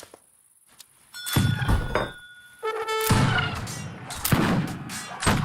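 Musket volleys in Age of Empires 3 battle: several sharp, loud cracks and thuds fire in uneven bursts, mixed with tonal game cues and layered battle noise, rising after a quiet start.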